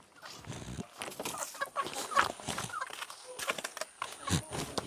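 Chickens in a newly built hen coop cluck and fuss in scattered bursts at close range, with rustling and movement sounds between the calls.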